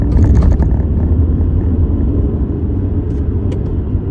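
A 2010 Subaru Outback with a blown head gasket, driving with its transmission mimicking gear shifts: a loud low engine rumble that swells at the start, then settles into a steady drone.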